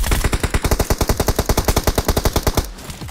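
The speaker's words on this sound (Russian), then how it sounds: "Там вот сзади стрельба." Rapid automatic gunfire in PUBG Mobile, a sustained burst of about twenty-five evenly spaced loud shots over nearly three seconds, close and punchy, then stopping abruptly.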